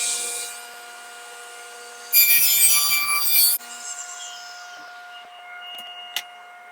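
A wooden floating picture frame is run through a saw to cut spline slots, one loud, close, rough cutting burst over a steady machine hum, then fading motor whine and a couple of light knocks, no talking.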